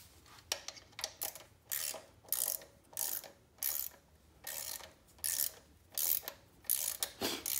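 Hand ratchet snugging bolts against the block of a 4.8/5.3 engine while a 4L80E transmission is fitted: about a dozen bursts of quick metallic clicking, each followed by a short pause, close and clear, with no talking.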